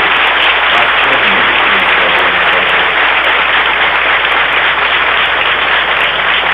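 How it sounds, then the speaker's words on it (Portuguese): An audience at a Brazilian community tribute event applauds loudly and continuously, a dense steady wash of clapping with no voices over it. "Muito obrigado pelas palmas"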